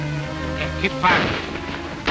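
Gunfire in a western film: a booming shot bursts out midway, loud and close, over a rumbling soundtrack background.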